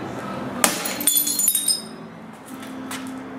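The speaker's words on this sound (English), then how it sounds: "Single pane annealed, film on the inside, hitting exterior." Single-pane annealed glass with security film on the inside struck from the exterior, giving one sharp loud impact with a bright ringing crack, then a second hit and a fading tinkle.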